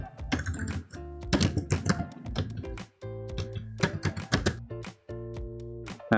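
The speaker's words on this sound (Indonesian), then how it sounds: "Nah, dan kemudian kita masukkan password kita ya." Fingers type on a computer keyboard in quick irregular bursts of close, crisp key clicks, with brief pauses between runs, while logging into a Google account.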